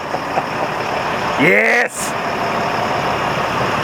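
An LMTV military truck engine runs steadily in gear with a constant mid-distance rumble, while a voice shouts briefly over it.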